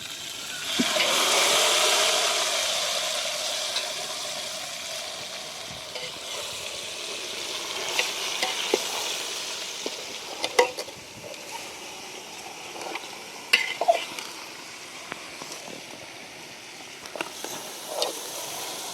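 Mutton added to a pan of onions browned with turmeric hisses in a loud burst that settles into a steady frying sizzle, with scattered clanks and scrapes of stirring heard close by and no talking.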